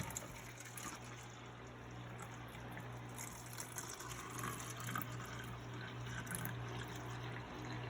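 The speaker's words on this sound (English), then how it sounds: "pour the water into each cup. All the way to the top." Water poured into a row of cups, a continuous faint trickling and filling sound with a low steady hum underneath, no talking.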